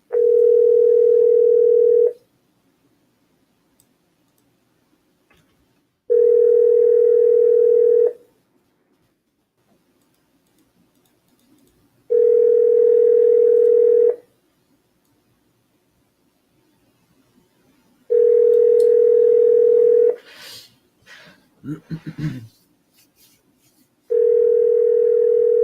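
Telephone ringback while placing a cold call: a steady tone sounding in five evenly spaced two-second bursts with silent gaps, and a brief clatter of handling between the fourth and fifth.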